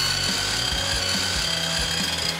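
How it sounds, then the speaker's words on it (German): A mitre saw (sliding compound mitre saw) cuts squared timber beams to length, a steady loud motor whine with low rhythmic pulses as the blade works through the wood, no voices. "Wir schneiden zwei Kanthölzer in die gewünschte Länge. Mit der Kappzug- und Gärungssäge ist das im Handumdrehen erledigt."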